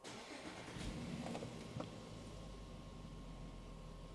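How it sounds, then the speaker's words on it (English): An Audi car engine cranks and catches, then settles into a steady low idle that holds for a few seconds with no talking over it. "So now let's start the engine and see what we got."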